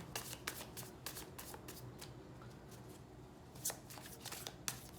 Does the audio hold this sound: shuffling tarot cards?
yes